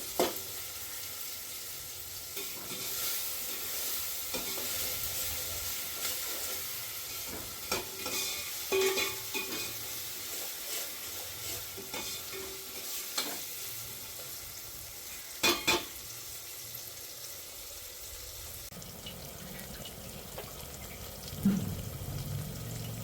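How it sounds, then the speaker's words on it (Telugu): Tomato pieces soften in hot oil for a brinjal and egg curry, sizzling steadily up close while a spoon stirs and scrapes the pan in scattered clicks and knocks. "టమాటా ముక్కలు కూడా నూనెలో మెత్తగా ఉడకనిస్తాను."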